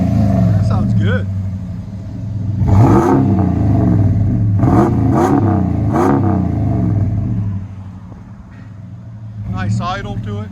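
A 2018 Ram 1500 with a 5.7L Hemi V8 and Flowmaster 40 series exhaust with resonators and 5-inch tips holds a steady, deep idle throughout, with a few short revs in the middle and people talking over it.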